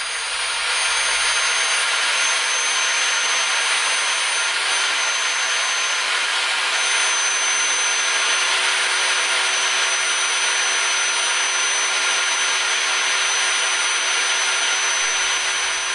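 A Bosch GSB 550 impact drill running with no load, giving a loud, steady, high-pitched motor whine that holds unbroken and close for the whole stretch, with no talking.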